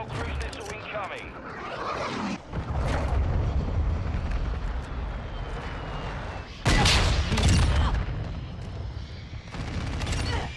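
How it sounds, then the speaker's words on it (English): Explosions and rapid gunfire in the Modern Warfare 2 video game, including a cruise missile strike, forming a dense continuous barrage with a loud burst partway through, with voices heard over it. "Hostile cruise missile incoming."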